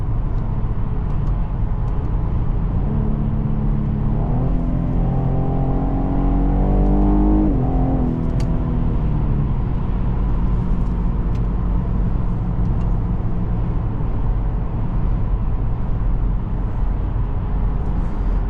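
A 2017 Cadillac CTS 3.6 heard from inside while driving, its engine revving up through rising pitch mid-way, then settling back to a steady loud cabin drone.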